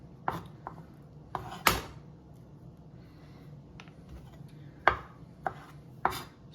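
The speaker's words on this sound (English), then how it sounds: "And then take out the pit and chop them" A knife chops pitted olives on a cutting board, sending close, sharp thuds in uneven bursts separated by short pauses, with no voices.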